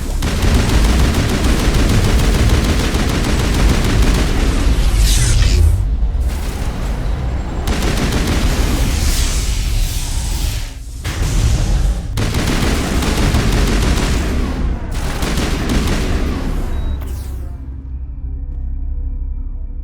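Heavy, continuous firefight gunfire in Mass Effect, loud overlapping weapon bursts and booms rolling on for many seconds with short breaks before ending abruptly.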